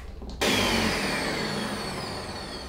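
Blender switched on to blend coconut and water into coconut milk, a quiet moment broken by a sudden loud motor whir that holds steady and slowly eases, close and without talking.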